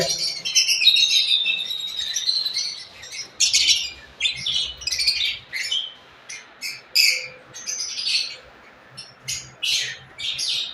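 Small cage birds in a home breeding setup give bright, rapid chirps and trills in repeated bursts, close and fairly loud, with only a faint low background.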